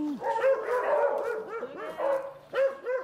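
Several farm dogs bark excitedly near a traditional jar terrace in the Korean countryside, sharp repeated barks and yips tumbling over one another, loud and close.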